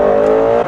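A 2017 Shelby GT350 accelerates in first gear, its engine giving a loud, steady droning note that holds briefly before easing off.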